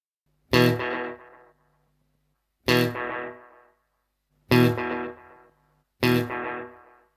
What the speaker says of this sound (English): they add quite a bit of distortion and compression to the echoes, particularly on the lower register notes